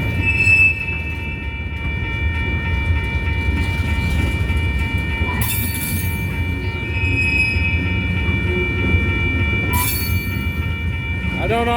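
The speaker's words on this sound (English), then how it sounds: "this train is coming from one track onto this one" A train crosses through a track switch from one track onto another, a steady loud rumble of wheels and cars with sustained high tonal squealing and sharp bursts of metallic screech.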